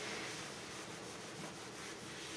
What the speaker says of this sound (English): I can clean my bathtub real quick like that